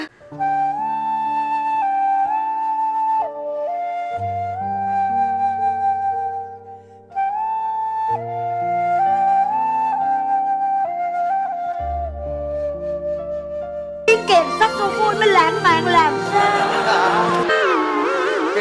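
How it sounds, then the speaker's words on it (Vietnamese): A bamboo flute plays a slow, lilting melody with sustained breathy notes over soft low backing music; near the end the accompaniment swells into a dense, bright passage. "cái này ấy là tiếng sáo"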